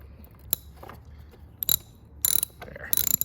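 A wrench ratchets a rusted 9/16 nut off a Black & Decker LE750 electric edger, with several short bursts of sharp metallic clicking separated by pauses and light handling noise, close and fairly quiet.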